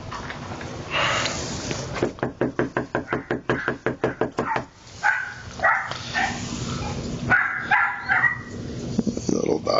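A small dog barks in a fast, sharp burst of about a dozen yips near the microphone, followed by scattered knocks and people talking.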